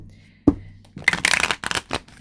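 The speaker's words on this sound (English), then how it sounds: "I'm going to shuffle this deck" A tarot card deck being shuffled by hand up close, starting with a single tap and then a quick run of papery riffling bursts.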